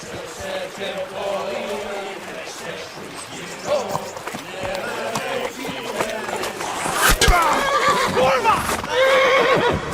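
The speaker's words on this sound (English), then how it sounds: "That's the horses!" Horses neigh and whinny with hooves clip-clopping in the medieval video game Kingdom Come: Deliverance, several whinnies rising and falling close by over a few seconds, with voices heard alongside.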